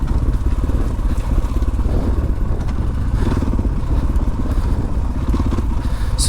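A dual sport motorcycle with a 12-tooth front sprocket ridden in third gear, its engine a loud, steady close drone with rattling and crunching chassis noise throughout.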